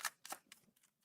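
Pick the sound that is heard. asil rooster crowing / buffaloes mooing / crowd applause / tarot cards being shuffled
tarot cards being shuffled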